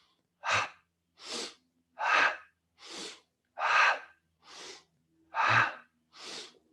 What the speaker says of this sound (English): So we're going to exhale one way, inhale the other.